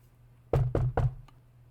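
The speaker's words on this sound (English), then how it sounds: "A knock came from my door." Three firm knocks on a door come in quick succession, close and distinct against a low background hum, followed by a faint fourth tap.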